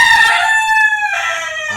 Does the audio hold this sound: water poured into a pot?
no